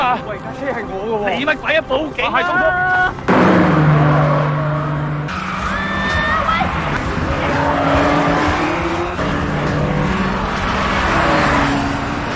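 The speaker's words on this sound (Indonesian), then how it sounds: "Jackie melihat kembali mobil itu. Tanpa basa-basi, Jackie pun langsung mengejarnya" Cars race through a chase scene in the Jackie Chan film Thunderbolt, with revving engines, squealing tyres and skids as vehicles pass. The sound is loud and shifts abruptly between shots, and a voice talks over it.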